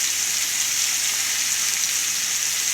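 Cut mango pieces go into a hot pan and sizzle loudly and evenly at close range, a continuous bright hiss with no talking.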